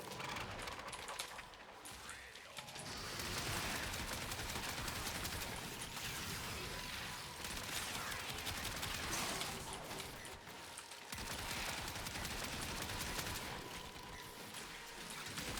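Kompressa weapon firing in the Warframe video game, a steady stream of rapid shots with dense clatter that runs almost continuously, pausing briefly a couple of times.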